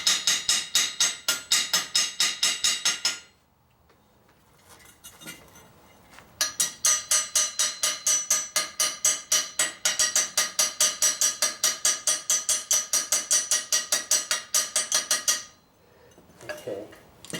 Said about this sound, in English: you actually have a buildup of they call slag over top of the weld, and you have to chip that away